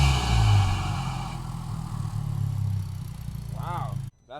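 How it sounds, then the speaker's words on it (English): A Honda Civic Type R FK8 fitted with a high-volume intake and loud exhaust rumbles close by with a deep, steady drone that eases off over several seconds before cutting out abruptly. "this exhaust is way too loud"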